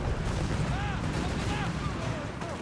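Battle noise from Company of Heroes 3: a steady, dense rumble of distant gunfire and artillery with scattered shots, running continuously under faint voices throughout.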